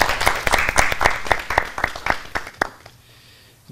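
Studio audience applause on an Azerbaijani TV tongue-twister contest show: a burst of steady hand-clapping from a crowd, fairly loud and continuous for about three seconds before cutting off to near silence.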